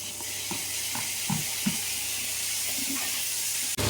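Tomatoes go into a pan of light-brown fried onions with curry leaves, raising a constant sizzling hiss with several soft thuds and stirring knocks and a sharp clatter at the end, no voices.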